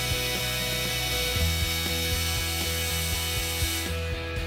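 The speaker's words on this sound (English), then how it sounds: "Using a 3/8 inch drill bit, drill each of the marked locations." A drill bores holes with a 3/8 inch bit to attach a Jeep Wrangler brake light extension bracket, giving a steady motor whine with repeated rhythmic clicking close by.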